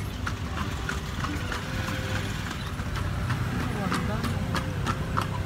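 A horse-drawn kalesa carriage on the streets of Vigan, Philippines, hooves clip-clopping in a steady rhythm under a constant rumble of wheels and street noise.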